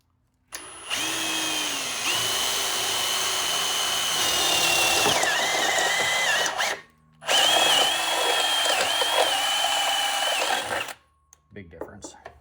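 Drill bits bore into aluminum with a loud, high whine in two long bursts separated by a short gap. The pitch wavers as the bits bind in the gummy metal.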